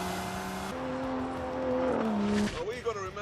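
Race car from The Grand Tour Game with a 715-horsepower engine, its tonal engine note climbing and shifting as it accelerates, then a brief tire squeal and skid near the end; a voice talks over much of it.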